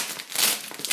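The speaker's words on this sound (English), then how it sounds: "Really strong Velcro." Strong Velcro on the front section of an Elite Spanker medical bag being pulled apart, a loud crackling rip that swells and repeats in short bursts, close and without talk.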